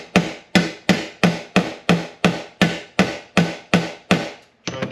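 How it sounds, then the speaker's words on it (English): A hammer strikes metal about a dozen times in a steady, rapid rhythm, banging out a dent on a 1965 Honda CB77 Superhawk motorcycle, each blow loud and ringing briefly before the next. "I'm just banging on this thing till the dent comes out."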